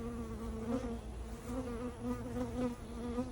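Steady, dense buzzing of many honeybees close by around a hive, a continuous droning hum with slight swells, no voices.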